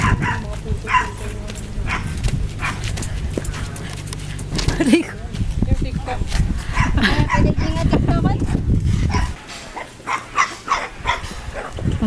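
Small dogs and puppies yip and bark in bursts at a campsite, close by and mixed with steady talking and background chatter.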